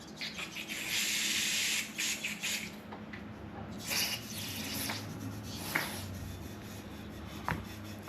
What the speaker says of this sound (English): spray some carb cleaner through here.